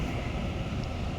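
Train 834, a Water Series 1 unit on a Clyde line, rumbles past at close range with a loud, steady roar and broadband rush that holds throughout the short stretch without any voices.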